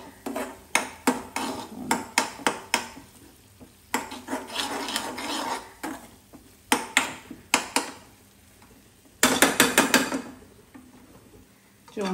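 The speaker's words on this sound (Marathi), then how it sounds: "जेवण बनवताना मी आवाज खूप करते चमच्याचा." A metal spoon clatters and scrapes against a cooking pot while stirring a spicy prawn curry at home, sounding as close, sharp bursts of rapid clinks separated by brief pauses.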